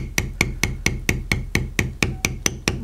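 A leatherworker's beveling tool is struck with a mallet on carved leather along a leaf stem, about a dozen sharp, evenly spaced taps close by with no talk.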